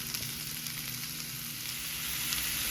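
Raw sausage fries in a hot pan while being stirred for risotto: an even, crackling sizzle with a soft hiss that holds steady and swells slightly toward the end, with no talking.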